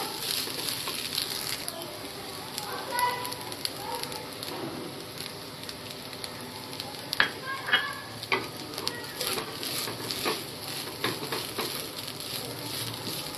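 Onion with fresh and dried coconut roasts in a pan for a traditional chicken curry, making a continuous soft sizzle and crackle. Scattered scraping from stirring and sharper pops stand out midway.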